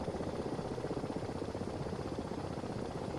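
A helicopter in a combat flight video game, with a continuous rotor and engine roar that stays loud and steady throughout, heard alone with no talking.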